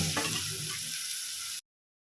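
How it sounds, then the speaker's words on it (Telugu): Eggs go into a pan of frying dry fish and tomato curry, giving a steady close sizzle that stops abruptly after about a second and a half. "ఇప్పుడు ఎగ్స్ వేసేసుకోవాలండి."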